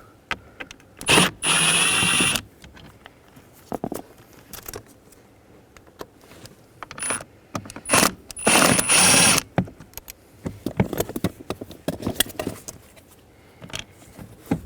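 A socket ratchet with a T25 or 8mm socket takes bolts out of the blower motor on a 2017-20 Subaru Impreza, heard as short, close bursts of quick clicking broken by quiet pauses.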